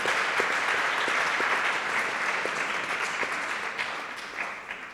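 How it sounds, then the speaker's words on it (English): Audience applause at an academic conference closing ceremony, an even wash of many hands clapping, moderately distant, holding steady and then gradually fading near the end with no talking over it. "So I would like to invite you to applause to Professor Provost for this achievement."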